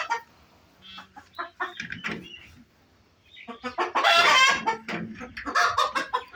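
Laying hens and roosters in a farm poultry shed, about 42 hens and ten roosters, cluck and cackle close by in uneven bursts, with louder squawking runs in the second half.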